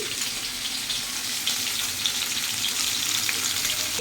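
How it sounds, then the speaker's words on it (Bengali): Bitter gourd frying with onions in a pan gives a steady, close, fairly loud sizzle that holds evenly throughout, with no one talking. "আমার করলা ভাজা হচ্ছে পেঁয়াজ দিয়ে দিয়েছি"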